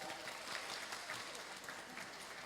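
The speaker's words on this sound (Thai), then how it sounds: "ขอเสียงปรบมือต้อนรับคุณแก้มบุ๋มด้วยครับ" An audience claps steadily to welcome a female guest at a fertility clinic event, a dense, even patter of many hands heard from a distance, fairly soft throughout.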